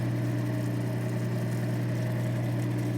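A 180 grit grinding wheel hums steadily while polishing a Chlorastrolite greenstone under light pressure, a constant mid-pitched motor drone with a faint grinding texture, close and unchanging, with no speech over it.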